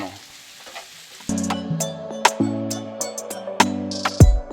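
Green beans and parsley stems hit hot oil in a frying pan, setting off a loud, steady sizzle with utensil clinks and scraping as they are stirred, close by.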